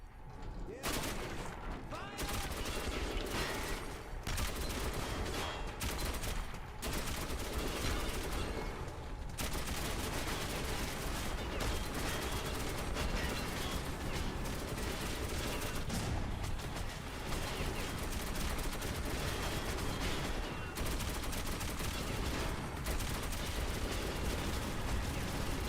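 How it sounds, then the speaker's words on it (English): Sustained heavy gunfire from a mounted machine gun in a shooter video game, loud and near, with dense continuous bursts and overlapping shots running throughout and no talk. "there was a mounted machine gun. That's what was fucking me up so bad"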